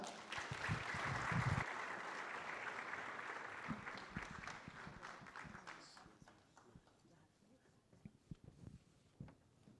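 Applause from an audience at an Ethio America Chamber of Commerce award dinner, a dense burst of clapping that starts loud, then thins and fades into scattered claps with some voices mixed in.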